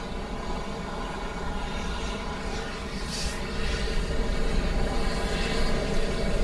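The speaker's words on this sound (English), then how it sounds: "you can see President Biden off the plane" Plane carrying President Biden arriving on the tarmac in rain, a steady loud jet engine roar that swells slightly toward the end, with no voices.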